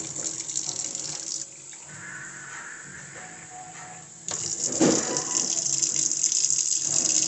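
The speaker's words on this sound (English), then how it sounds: "Now this is my hot water." Hot water runs from a kitchen tap in Chicago, a steady hiss and gush that weakens midway, then surges back louder and stronger for the rest of the clip.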